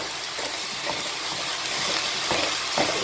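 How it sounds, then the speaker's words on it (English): Beef, carrots and onions fry over a high flame for cottage pie, a steady close hiss of sizzling with a few soft scraping stirs breaking through. "Still on a high flame. Work the beef, the carrots and the onions."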